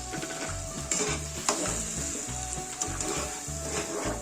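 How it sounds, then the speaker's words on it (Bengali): Boiled potato is stirred into a cutlet mixture with a spoon, giving soft mushy scraping and a few light knocks against the bowl or pan, close and moderate in level over a low rhythmic hum, with no voices. "এইভাবে নেড়ে নেব।"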